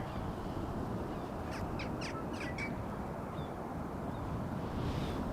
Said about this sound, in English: So there are a few birds